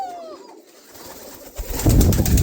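Fancy pigeons kept in a loft coo close by, a short rising call followed by a louder burst of throaty cooing near the end.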